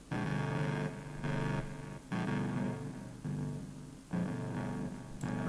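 A distorted synthesizer bass with its filter frequency raised plays sustained, buzzing notes in a repeating pattern, each held about a second before the next starts, loud and alone.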